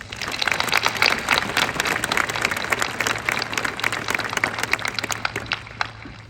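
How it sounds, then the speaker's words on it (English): Audience at a high school graduation applauding the teachers, a steady crowd of claps that swells and then tapers off toward the end. "Let's give a round of applause for our teachers."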